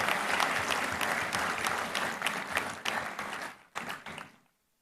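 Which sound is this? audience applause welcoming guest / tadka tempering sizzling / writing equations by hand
audience applause welcoming guest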